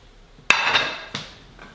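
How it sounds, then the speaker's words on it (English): A kitchen knife and then a chopping board set down on a counter, two sharp, close knocks about half a second apart, each with a short ringing decay, in an otherwise quiet room. "Now we need a cutting utensil. Knife. Tick. Chopping board."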